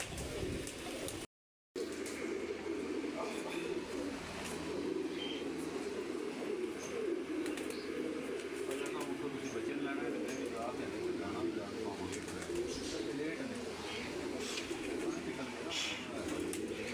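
Pigeons coo softly and steadily from a rooftop loft, a continuous low burbling bed with occasional chirps and light wing sounds over faint background noise.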